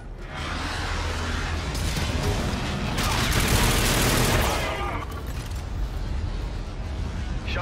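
An aircraft gun run in Call of Duty: Infinite Warfare: a loud, dense roar of continuous rapid gunfire that swells to a peak in the middle and then settles into a steady rumbling barrage.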